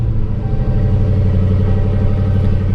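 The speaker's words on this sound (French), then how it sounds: "Le démarrage à froid qui est toujours un grand moment sur ces caisses" Cold-started V8 engine of a Dodge Scat Pack car idling in a shop, a loud, steady, deep rumbling burble close by with no talking.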